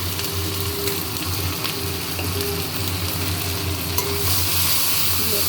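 Cumin, dried chillies, ginger and cumin powder sautéing in a pan, a continuous close sizzle with steady stirring and scraping that brightens slightly toward the end, no voices.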